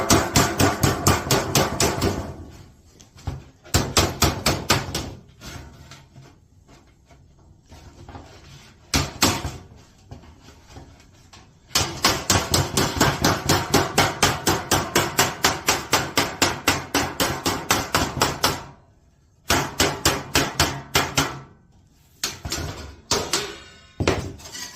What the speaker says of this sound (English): And then take your regular hammer,